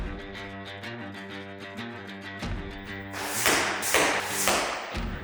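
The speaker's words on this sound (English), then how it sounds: "I'm going to send a field tip downrange first just to get our aiming point." A field-tip arrow flies downrange at a target on a broadhead test range, landing as a few dull thuds and broad bursts near the end, over a steady tonal hum.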